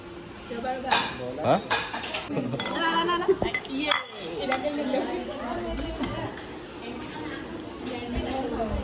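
Plates, steel thalis and cutlery clink and clatter as meal platters arrive at an Assamese wedding feast, with irregular near clinks over busy chatter and people talking close by.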